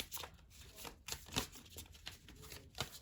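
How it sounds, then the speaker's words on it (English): Tarot cards are shuffled and pulled by hand, giving quick papery riffles and soft slaps in uneven bursts, close and quiet, with no voices. "I'm gonna pull some more cards here"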